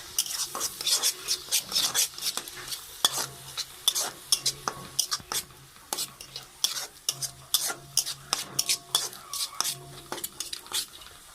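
Ginger garlic paste stirred into hot oil in a pan, with onion paste already in, for an egg and potato curry: repeated sharp scraping strokes of a spoon over a soft sizzle, close and steady.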